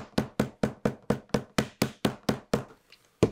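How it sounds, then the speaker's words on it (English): Hammering down a glued, wet leather holster: about a dozen sharp, close hammer taps at a steady even rhythm, a brief pause, then one more strike, with no voices. "You gotta be real careful hammering this down because it's wet."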